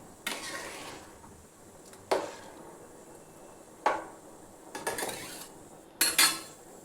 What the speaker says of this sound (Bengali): এবারে আমি এটা ভালো করে ঢাকা দিয়ে দিচ্ছি।